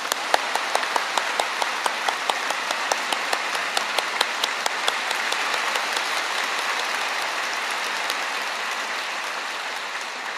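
Church congregation at a Korean memorial worship service for the 74th anniversary of the 6·25 war applauding to welcome a speaker: some crisp, rhythmic claps stand out early over a broad, steady roar of clapping that continues evenly to the end.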